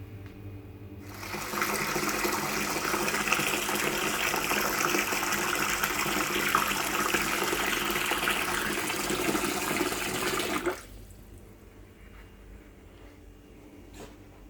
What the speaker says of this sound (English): So I'm just going to use some of this sterilising solution to sterilise those jars.